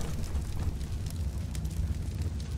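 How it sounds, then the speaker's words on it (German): An explosion in a Skibidi Toilet multiverse animation comes through as a sustained, rumbling low roar with crackling bursts, loud and steady. "Und jetzt explodiert es."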